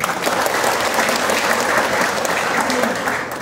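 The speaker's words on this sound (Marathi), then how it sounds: "तर सर्वप्रथम जोरदार टाळ्या व्हायला पाहिजे" Loud, sustained applause from a political rally audience fills the whole stretch, a dense, even clatter of clapping with faint crowd murmur beneath.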